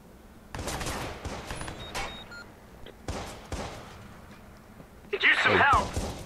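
Gunshots in the video game Watch Dogs, a few separate sharp bursts spaced through the clip, the last one loudest, with someone talking between them.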